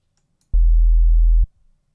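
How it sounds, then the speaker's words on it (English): A synthesized sine-wave sub bass note, with faint aliasing tones above it, sounds as one loud, steady, smooth tone lasting just under a second and then stops abruptly, with silence before and after. "as we get higher, the aliasing frequencies will get up into that upper range"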